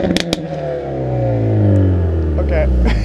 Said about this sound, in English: This Veloster N has quite the exhaust, let's say.